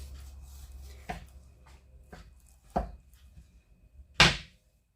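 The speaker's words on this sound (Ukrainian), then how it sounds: "довгу смужку я буду розрізати навпіл" A knife cuts through a long strip of salted pork fat (salo) in several separate strokes, each a short dull chop on the board, with the last one the loudest and sharpest, with quiet pauses in between.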